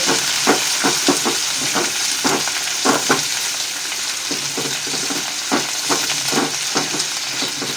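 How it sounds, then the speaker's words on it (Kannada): Chopped tomatoes with turmeric stirred in a pan over a low flame for avalakki, a steady close sizzle with repeated spatula scrapes and taps in an uneven rhythm, no talking. "ಹಾಕಿದ ನಂತರ ಹೀಗೆ ಸಣ್ಣ ಉರಿಯಲ್ಲೇ ಕಲಿಸ್ತಾ ಇರಬೇಕು"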